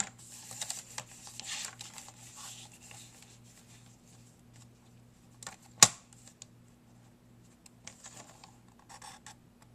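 Paper is trimmed along a half-inch score line while making an envelope: soft scraping and rubbing strokes, then one sharp click partway through, followed by more light, close scratching.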